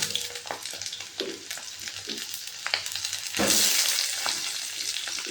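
Washed, cut elephant foot yam pieces are added one by one to hot oil with a bay leaf, giving a steady close sizzle that swells into a louder, brighter hiss as more pieces go in.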